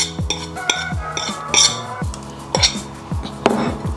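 Ingredients tipped into a dish and mixed for a chicken shawarma meal prep, a run of clinking and scraping utensil strokes against the dish with a few louder knocks, close and without talk.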